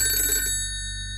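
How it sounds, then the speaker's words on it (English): An old telephone, the only one in a flat, rings loudly with a sharp trilling bell that breaks off after about half a second over a steady low hum, with no voices present. "the phone rang"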